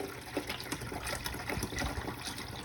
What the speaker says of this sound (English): I also forgot to fill up my Keurig machine with water.